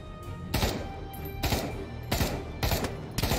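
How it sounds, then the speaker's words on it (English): Gunfire in the VR shooter Pavlov VR, a rooftop police-station firefight: several sharp bursts of shots crack out at irregular intervals over a steady background, fairly close and loud. "A lot of gunfire is happening over there."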